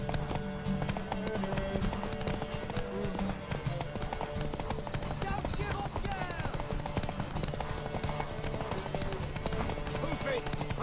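Rapid hoofbeats clatter in a steady galloping rhythm in The Witcher 3: Wild Hunt, under game music and effects, with a voice shouting now and then.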